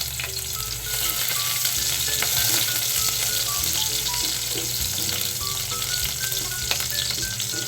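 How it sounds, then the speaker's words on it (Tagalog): Garlic sautéing in a pan for beef sinigang, a loud continuous close sizzle of frying with stirring scrapes running the whole time and no voices. "gusto ko siyang ginigisa. So, unahin ko yung bawang."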